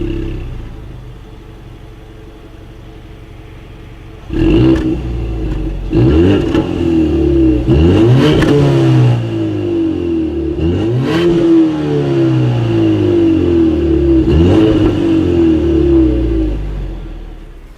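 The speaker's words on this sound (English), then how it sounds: "As always, here is that exhaust clip." A 2019 Mazda CX-5's exhaust revs repeatedly, five or six sharp bursts rising and falling over a low idle rumble, loud and close, with no talking.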